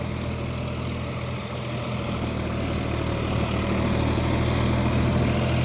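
A John Deere 5045D 4WD tractor engine runs steadily outdoors on farmland, a constant low diesel drone with a throbbing rumble, close and unbroken throughout.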